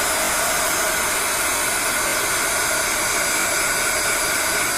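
A heat gun blows steadily over thickly applied mixed media paint to dry it, giving a loud, continuous hissing roar of air that holds an even level throughout with no pauses.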